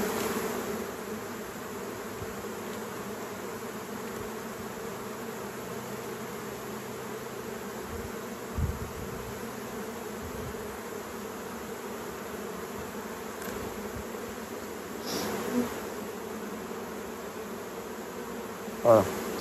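Honey bees swarm around open hive frames as a beekeeper works a mini-plus queen-rearing colony, a dense steady buzz close by with a few faint knocks and clicks from handling the frames.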